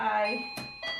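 Chiming doorbell in a quilting shop, signalling customers coming and going, rings out as sustained bright tones mixed with a couple of short knocks or clicks, while a person talks nearby.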